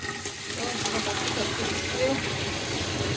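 A spoon is rinsed under a running kitchen tap, a steady, close gush of water that continues throughout.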